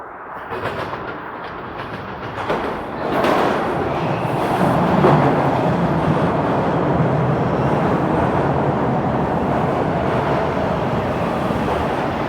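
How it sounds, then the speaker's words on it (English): Toronto subway train pulling into Lawrence West station northbound, a broad rumbling roar that builds around three seconds and holds steady and fairly loud for the rest of the clip, with no talking. "this would be a northbound train."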